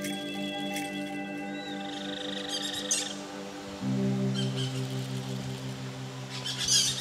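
Birds chirp and call from high in the trees of a southern Bahia forest reserve, with thin whistled notes and brief chirps over a steady bed of rustling and ambient forest noise, moderately distant.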